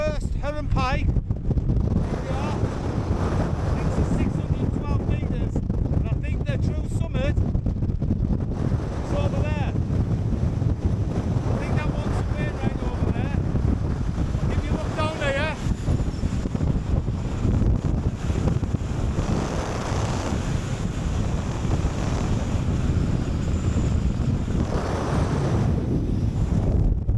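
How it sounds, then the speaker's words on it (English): Strong gusting wind buffets the microphone on the 612-metre summit of Heron Pike in the Lake District, a loud continuous roar that swells and eases, with someone talking intermittently beneath it. "it's very windy up here"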